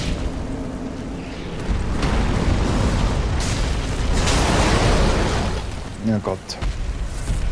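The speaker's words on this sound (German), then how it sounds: "Achtung, Explosion!" A loud rumbling explosion erupts in Dark Souls III, a broad roaring blast that swells and holds for several seconds amid in-game voices before fading into scattered pops.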